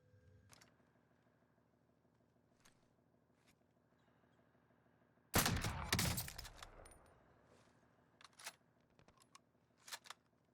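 A single loud gunshot burst in the Warzone battle royale game, sharp and close, followed by a short tail of rattling echoes and a few fainter later pops over a quiet humming game background.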